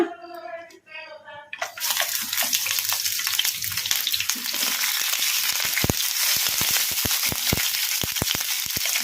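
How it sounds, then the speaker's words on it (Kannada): Green chillies dropped into hot oil in a home kitchen crackle into a loud, dense sizzle that starts abruptly and holds steady, dotted with sharp spitting pops, following a brief voice at the start. "ಇವನ್ನ ಎಣ್ಣೆಗೆ ಹಾಕಿ ಫ್ರೈ ಮಾಡ್ಕೊಂಬಿಡೋಣ"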